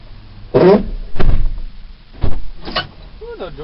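Creaky doors of a 2002 Land Rover Freelander SE creak and thunk shut a few times in sequence, with sharp bursts of noise separated by short quiet gaps and a faint squeak near the end.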